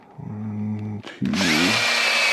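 A power drill drives wood screws into wood while a storage rack for hanging chairs is mounted on a ceiling. A steady motor whine runs for about a second, then a louder, harsher burst of drilling follows close up.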